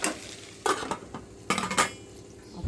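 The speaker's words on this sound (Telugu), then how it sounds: "అప్పుడప్పుడు కలుపుతున్నా మధ్యలో." Bitter gourd being stirred in a pan for a crispy Telangana-style fry, giving a few separate bursts of utensil scraping and clinks against the pan over a faint sizzle.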